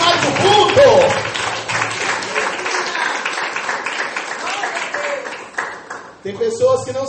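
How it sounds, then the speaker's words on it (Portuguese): Church congregation applauding during a worship service, a sustained wash of clapping with voices mixed in, thinning toward the end before talk resumes. "Vamos aplaudir, amado, porque é bom demais o culto."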